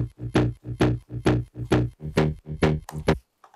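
A synth bass drop made from a Serum preset repeats as eight swelling pulses, each note rising and fading in a steady pattern, loud and upfront, with no voices.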